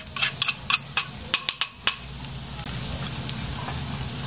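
Garlic sizzling as it browns in a pan, a steady frying hiss beneath a series of sharp utensil clinks and scrapes against the pan in the first two seconds.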